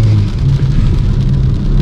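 Steady rain falls in tropical Colombia around a freshly washed car, a dense, continuous wash of drops with a low rumbling undertone throughout and no voices.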